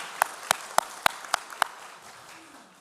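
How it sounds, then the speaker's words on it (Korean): A church congregation gives a short burst of clapping during a Sunday worship service, about six distinct sharp claps in a steady rhythm, fairly close, fading into room quiet. "하나님께 감사의 박수 드리겠습니다"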